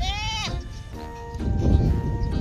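A goat bleats once, loud and close, with a wavering cry, followed by rustling and background noise.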